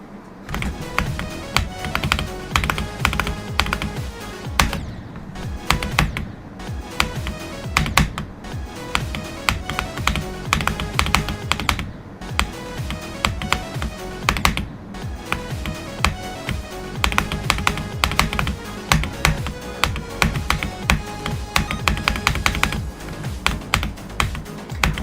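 Fast, steady clacking keystrokes on a Wooting computer keyboard, close and fairly loud, running continuously with brief pauses and game sounds faintly underneath.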